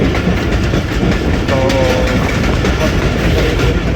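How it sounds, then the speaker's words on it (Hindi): The 14 Down Awam Express runs at full speed, a loud, continuous rumble with rhythmic clickety-clack of wheels on rail joints, heard from on board. "तो जनाब ड्राइवर साहब फुल फ्लो में लेके जा रहे हैं 14 डाउन अवाम एक्सप्रेस को"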